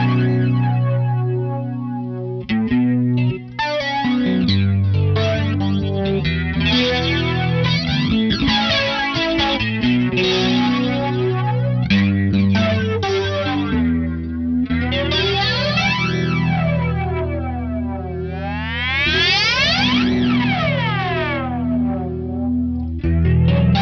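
An electric guitar runs through a Krozz Devices Airborn analog flanger with the oxidation control turned down, chords swept by loud, sweeping comb-filter swooshes that rise and fall over long sustained passages.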